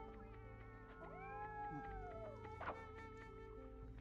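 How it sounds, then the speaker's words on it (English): A cat in a stealth video game's snowy water-garden level gives one wavering meow over a steady hum of game music and ambience, followed by a short sharp sound effect. "What is that? It's a cat."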